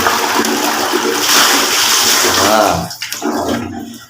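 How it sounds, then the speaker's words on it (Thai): A household toilet flushing after cleaning, a loud close rushing swirl of water that drains off and settles into a quieter trickle. "แล้วก็กดชักโครกที่มันค้างอยู่ด้านในนะครับผม"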